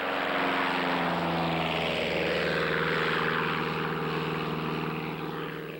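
A propeller aeroplane taking off, its engine droning loudly and steadily with a thick, sustained roar that slowly fades slightly toward the end.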